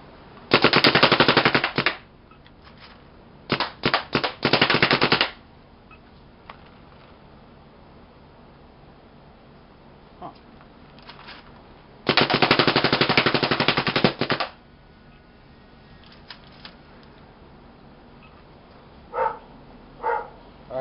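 Toy Luxe gun firing in loud, rapid automatic bursts, a long burst at the start and another midway, with a few short isolated shots between and faint sounds at the end.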